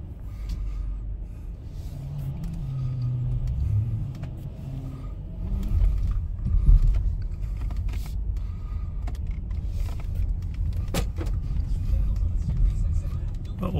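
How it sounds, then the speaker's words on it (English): A 2022 Mercedes-Benz GLS450 SUV idles and rolls out of a lot with a low, steady engine rumble and a brief rise in revs midway; a person talks over it throughout. "I'll just pull the car outside here, do a little video."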